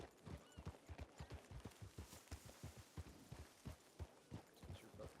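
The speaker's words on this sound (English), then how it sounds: "That's your fucking horse." Horse hooves clip-clop in a steady, close rhythm of hard thuds, with a possible brief whinny among them and no speech over the sound.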